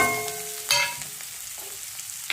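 Onion frying in a pan for a green chana curry, a faint steady sizzle with a few soft clinks and scrapes, no voices.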